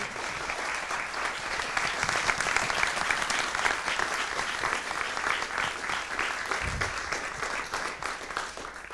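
A lecture-hall audience gives a sustained round of applause for an honoree and his family, even dense clapping filling the whole stretch, moderately loud with a brief low thump near the end.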